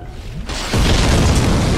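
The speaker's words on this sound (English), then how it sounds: "this is where an explosion comes up." An explosion in Dark Souls at Sen's Fortress: after a brief quiet build-up, a sudden loud boom breaks out and stays as a dense, sustained roar for about a second.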